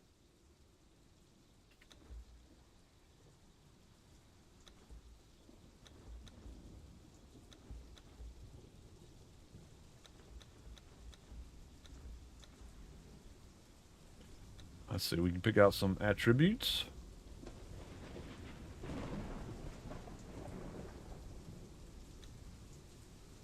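Rain and rolling thunder in the Conan Age of Heroes game on the Isle of Siptah, with steady quiet rain throughout and a loud burst near the middle. Someone talks over it.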